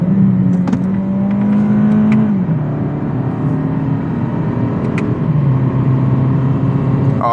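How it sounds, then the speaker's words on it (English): A 2023 Toyota Camry SE engine revs steadily under load in manual mode with paddle shifters, a loud continuous drone that steps down in pitch as gears change, heard close from inside the cabin with no talking. "Just listen to that engine."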